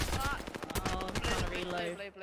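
Assault rifle fire in a first-person shooter video game, loud rapid bursts and dense overlapping shots throughout, with a player's voice talking over the gunfire.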